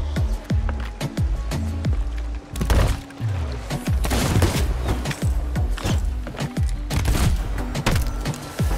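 Loud, continuous video game gunfire, rapid repeated shots layered with impacts and other game sounds throughout, close and dense with no clear pauses.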